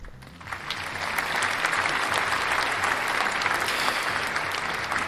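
Applause from a crowd, a dense, steady clapping that rises quickly and holds at an even level without voices.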